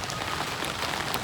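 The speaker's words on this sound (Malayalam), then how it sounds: "ഇവിടുത്തെ സൂപ്പർ മഴ, നല്ല അടിപൊളി മഴ." Heavy rain pouring down outdoors, a dense unbroken hiss of drops striking surfaces, steady and fairly near with no voices.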